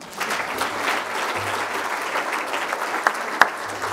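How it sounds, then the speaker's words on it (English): A crowd applauds at a school sustainability awards ceremony, a full sustained round of clapping with a couple of sharper individual claps standing out near the end. "Round of applause for everyone."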